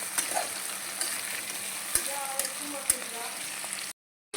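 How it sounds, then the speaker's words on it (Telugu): Vegetables with beetroot fry in hot oil for a vegetable pulao, a steady close sizzle with scraping stirs and a few sharp clinks, cut off by a short gap near the end. "మంచిగా ఆయిల్లో ఫ్రై అవ్వాలండి"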